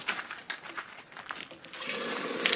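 Clean water sprinkled and splashed onto a water filter part, soft irregular spattering with short bursts of drips, then a steadier trickle toward the end, quiet and close.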